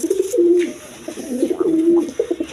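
Quality pigeons at a farm coo in soft repeated bursts, close by, with faint background noise.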